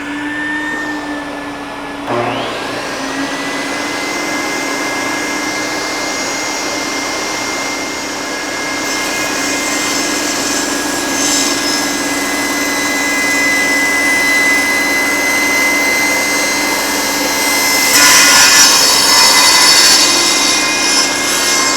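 Power saw cutting wood in a workshop: the motor spins up after a couple of seconds into a loud, steady whine that holds for the rest of the clip, swelling near the end as the blade works through the cut.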